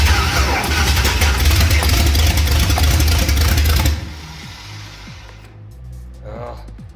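A carburetor engine in need of tuning roars loudly up close for about four seconds, then drops abruptly to a rough, uneven idle that sputters and fades.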